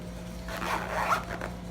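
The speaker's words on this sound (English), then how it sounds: "Zips up pretty well." A zipper closes on a Vanquest PPM Husky organizer in one short, close zipping pull over a quiet background hum.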